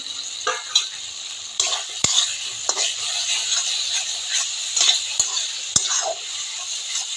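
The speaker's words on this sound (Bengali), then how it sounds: "কেটে রাখা আলুগুলো দিয়ে দিচ্ছি।" Cut potatoes with chilli powder and salt frying in a pan, a steady close sizzle broken by scraping stirs and a few sharp utensil knocks on the pan.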